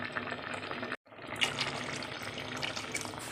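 Water is poured into a pot of drumstick sambar in a home kitchen, a close, splashing fill that breaks off for a moment and then resumes.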